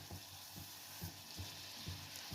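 Methi seed tea boils in a pot on the stove, a soft, steady bubbling with regular little pops and a faint hiss, quiet and close, with no voices.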